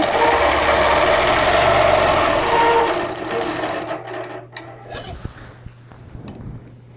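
A sewing machine runs steadily while machine quilting a two-block quilt, a continuous mechanical whir for about three seconds, then it slows and stops, leaving scattered faint clicks and handling sounds.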